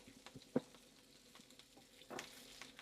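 White pudding frying in a pan gives a soft, steady sizzle and crackle, with a brief sharp clatter early on and a louder spitting burst near the end.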